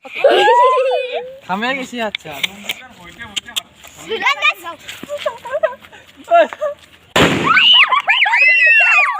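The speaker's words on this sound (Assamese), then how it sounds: "চাওক এইটো কিমান ডাঙৰ বোমা" A single sharp Diwali firecracker bang cuts through excited talking voices, which continue after the blast.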